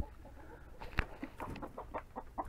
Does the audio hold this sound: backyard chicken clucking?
yes